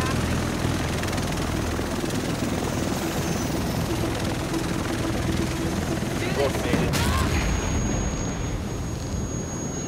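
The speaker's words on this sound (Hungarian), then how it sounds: "Úristen, de nagyon hangos az a helikopter" A loud helicopter in the video game The Division roars steadily throughout, with bursts of gunfire and a sharp high tone partway through, all dense and continuous.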